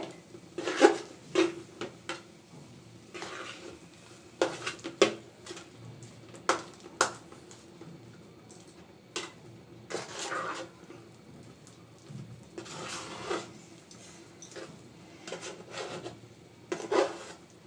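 Rice flour halwa stirred in a pan over very low heat, with repeated scraping and rubbing strokes of a spoon against the pan bottom in irregular bursts, close and clear, with no talk.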